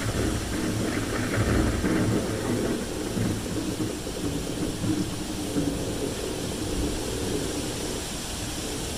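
Storm at sea, a dense steady roar of wind, waves and rumbling thunder filling the whole stretch, loud and continuous with no clear breaks and no voices.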